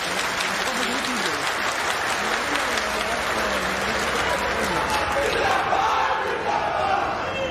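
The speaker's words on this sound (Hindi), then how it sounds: "तालियों की गड़गड़ाहट से आप लोग एक बार स्वागत करें" A large crowd at a chief minister's public event in Uttar Pradesh applauds to welcome Yogi Adityanath. The clapping is loud and dense, with occasional cheers, and it runs steadily throughout.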